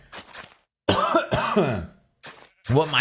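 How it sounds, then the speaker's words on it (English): A few harsh, throaty coughs in quick bursts, close to the listener, separated by short pauses. "Coughing."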